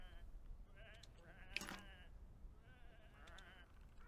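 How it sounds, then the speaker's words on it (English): Sheep bleat in the video game Whateverland: a few wavering, nasal bleats stand out against a steady low game ambience, with one louder, sharper bleat near the middle. "Come on, these are just sheep."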